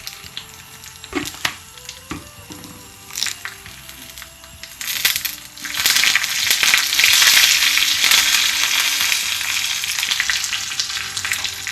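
Curry leaves being shaken into hot oil for a Kerala mango curry, starting with scattered crackles and pops and then swelling into a dense, loud, continuous sizzle that holds steady.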